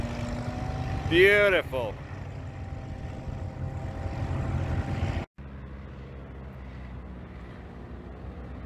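Cessna 180 and Carbon Cub STOL planes drag racing at the Reno National Championship Air Races: a steady engine and propeller drone heard from a distance, with a brief whine sweep, under crowd talk and a spoken exclamation.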